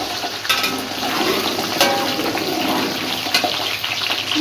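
Lasoora fruit sizzles in hot oil in a pan for pickle-making, a steady loud hiss with small crackling pops throughout.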